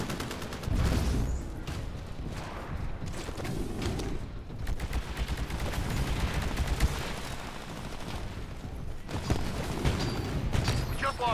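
Carbine fire in Titanfall, with rapid bursts of shots rattling almost continuously over a busy battlefield mix of distant booms and mechanical noise.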